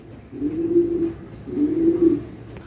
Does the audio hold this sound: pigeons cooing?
yes